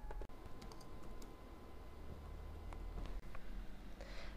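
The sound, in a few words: typing an answer on a computer keyboard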